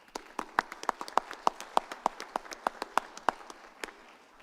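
A small group at a board of education meeting claps for the track team, about a dozen sparse, distinct claps in a loose rhythm, fairly quiet against a hushed room.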